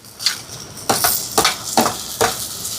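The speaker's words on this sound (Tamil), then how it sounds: "இனி தக்காளி பழம் சேர்ப்பேன்." Tomatoes going into a pan of garlic and being stirred while cooking for prawn curry, heard as five or six distinct scraping, clinking strokes of a spoon against the pan over a soft sizzle.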